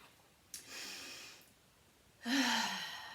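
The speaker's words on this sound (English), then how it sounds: "take a nice deep breath in, nice and low, so into your stomach and your ribs" A person takes a deep breath low into the stomach and ribs during a voice exercise: a soft airy inhale, a pause, then a louder breathy rush of air, close and with no words.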